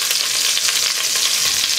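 Bell pepper frying in a small pan where veal tendron lardons are cooking, a loud, even sizzle with a crackling texture throughout and no one talking.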